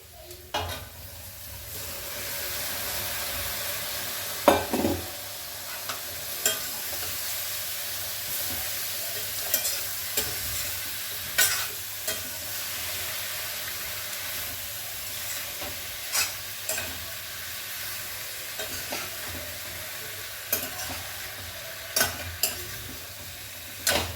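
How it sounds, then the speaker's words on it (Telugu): Boiled chicken stir-fried in a pan for butter pepper chicken, with a steady sizzling hiss and regular spatula scrapes and knocks throughout, close up and with no talking. "ఇప్పుడు మనం బాయిల్ చేసిన చికెన్ వేసేసుకుందాము"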